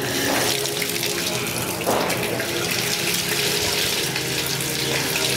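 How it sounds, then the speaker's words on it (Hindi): Water runs and splashes steadily as the mouth is rinsed with water poured from the right hand during wudu, a continuous close wash with no talk. "पहले कुल्ली के लिए हमने दाएं हाथ से मुंह में पानी डालना है"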